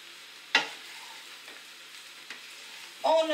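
Leftover bread fries in olive oil in a pan over medium heat, a soft steady sizzle broken by a few brief stirring scrapes, close and quiet with no talking.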